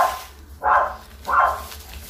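A dog barks twice outdoors in autumn, two evenly spaced, fairly loud barks about two-thirds of a second apart, with no talking over them.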